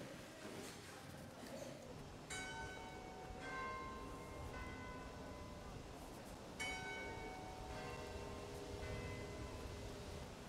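Church bells ring in Kaliningrad, several distant strikes with long ringing decay over a noisy outdoor background where pigeons coo and birds call.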